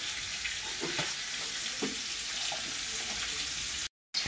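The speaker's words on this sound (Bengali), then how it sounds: "এতে ডিংলাটা ভাজা হোক" Ridge gourd frying in a pan gives a steady, fairly quiet sizzle with faint scrapes of stirring, ending in a brief silence.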